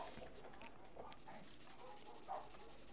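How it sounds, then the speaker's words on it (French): Dogs yelp and whimper in the distance, faint, scattered cries over a quiet indoor background, with a slightly louder bark near the end. "Désolée pour le cri des chiens."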